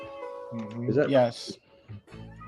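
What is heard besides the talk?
cat meowing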